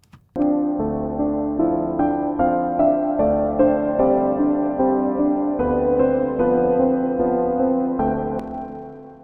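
A stereo music recording given spatial depth and height by the AB vortEx plugin: sustained harmonic chords with a steady, full level, played alone without any talk throughout.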